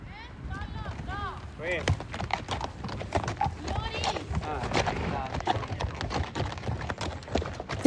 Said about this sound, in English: you might hear horses like these clomping along on its basalt stones